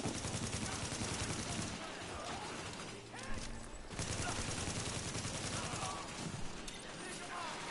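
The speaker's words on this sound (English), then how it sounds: "I am pulling out my shield and shooting things." Rapid gunfire in The Division rattles in dense bursts, with a brief lull in the middle before the shooting resumes, while a voice talks faintly underneath.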